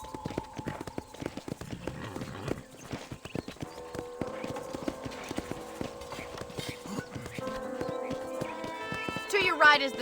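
Horse hooves clip-clop at a steady walking pace in a Red Dead Redemption Wild West ranch scene, with someone talking over the rhythmic clopping throughout.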